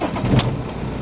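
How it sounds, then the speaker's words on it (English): A car engine cranks and catches in a short burst, a brief sharp rise then a steady low rumble settling toward idle, close by with no talking. "I guess now we'll see if the car wants to fire up."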